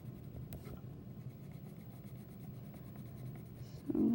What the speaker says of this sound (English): So you're going to use colored pencils.